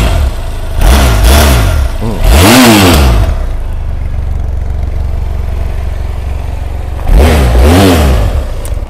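A 2016 BMW F700GS motorcycle engine, standing, revs hard three times in quick bursts, then settles to a steady idle before two more loud revs near the end, close and loud.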